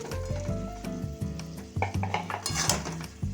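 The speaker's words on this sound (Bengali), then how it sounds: "এবার আমি ভাজা মাংসগুলো এর সাথে দিয়ে দিচ্ছি" Pieces of fried chicken for Chicken 65 go into a pan of cooked masala and get stirred, with the clatter of a spoon against metal, soft sizzling and a few sharper clinks throughout.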